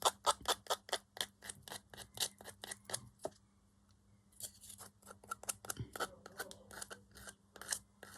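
An emery board filing metal wire for heat-embossed dangles, with rapid rhythmic rasping strokes, close and crisp, pausing for about a second before the strokes resume in a similar quick rhythm.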